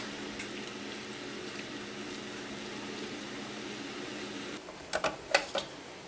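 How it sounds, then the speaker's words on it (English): Vegetables and ground meat cooking together in a pan, a faint, steady low sizzle, then a short cluster of sharp clicks and taps near the end, no talking. "I dumped my veggies in and I'm letting them cook with my ground meat before I add my sauce"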